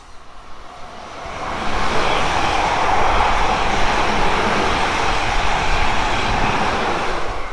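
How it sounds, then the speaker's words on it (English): A train passes on the South Western Main Line at Winchfield, a loud, steady roar that swells in after a couple of seconds and holds broad and close to the end, with no talk. "There is a train coming."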